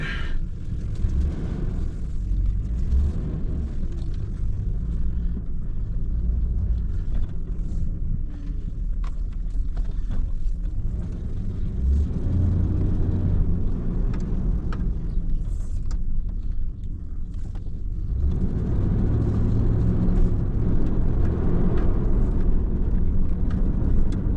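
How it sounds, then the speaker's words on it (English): A 2001 Dodge Dakota driving with a noisy rear axle, a steady loud low rumble and drone of road and drivetrain throughout, swelling slightly in the later seconds. "Rear axle didn't magically stop making noise after those burnouts, unfortunately."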